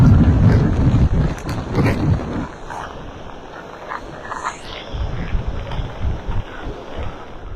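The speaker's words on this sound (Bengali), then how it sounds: "প্রচন্ড বেগে কিন্তু এখন এই মুহূর্তে বাতাস বইছে" Strong storm wind roars and buffets the microphone in loud gusts on the Noakhali coast, heaviest at the start, then settling into a steadier rushing blow with rain.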